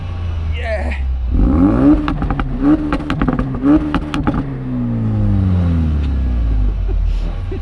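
A Toyota GR Yaris and a Ford Focus RS rev their engines, with several sharp rising revs and crackles up close followed by a long steady engine drone, voices briefly audible over the noise.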